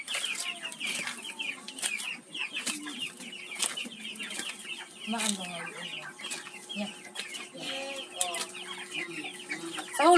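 Chickens cluck and squawk repeatedly at close range on a rural farm, with busy overlapping calls, while a few words are spoken over them.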